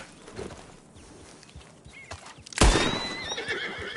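Horse in Red Dead Redemption 2 whinnies loudly and close, a sharp high neigh bursting in partway through over a steady bed of clip-clopping hooves.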